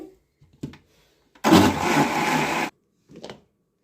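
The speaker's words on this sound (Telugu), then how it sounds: "కొబ్బరి పాలు చేస్తున్నానండి ఇలాగ మిక్సీకి వేసుకోవటమే కొబ్బరి" An electric mixer grinder grinds coconut to make coconut milk, running in one loud, steady burst of just over a second, with a few small knocks and clatters before and after.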